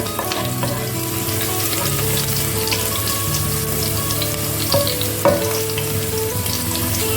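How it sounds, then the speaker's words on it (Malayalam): Green chillies sizzle steadily in hot oil on a home stove, a dense close frying hiss with a couple of sharper pops and clinks near the end, no speech. "എണ്ണയിൽ കിടന്ന് പച്ചമുളക് നല്ല വഴലട്ടെ."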